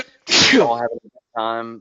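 A single loud, close human sneeze bursts out between bits of conversation, with a person talking just before and another voice speaking right after.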